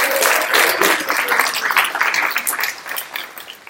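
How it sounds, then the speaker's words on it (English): Sustained audience applause for Judy at a policies and procedures meeting, a dense steady wash of many hands clapping fairly close, with no talk over it. "So would you give Judy a round of applause?"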